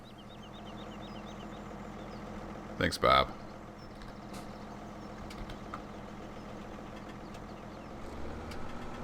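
A tractor in the video game Farming Simulator 17 idles with a low, steady mechanical hum throughout, interrupted by one sharp loud knock near the middle, while someone speaks briefly over it.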